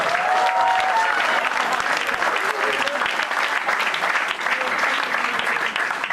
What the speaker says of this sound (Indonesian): Tepuk tangan sekali lagi untuk Mark Henry.